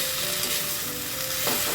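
Mushroom chilli with spring onion being stirred in a hot pan, a steady close sizzle of frying with soft scraping of the spoon running throughout.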